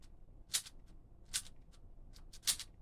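An X-Man Tornado V3 speedcube twisted in three quick bursts of plastic clicking and rattling, each turn short and close, separated by brief pauses with no talk.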